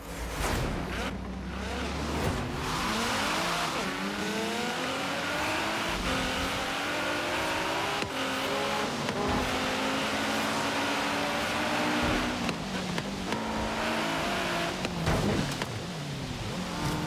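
A 1200 horsepower Nissan GTR race car in Forza Horizon 3 revs and accelerates with a continuous rising and falling engine drone, gear shifts and whooshes as it speeds along, loud and sustained with no talk.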